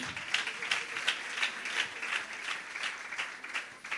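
Applause from a children's church program audience, a steady crowd clapping that fills the whole stretch at moderate loudness with no talking over it.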